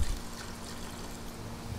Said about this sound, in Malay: Jadi air ni saya tuang.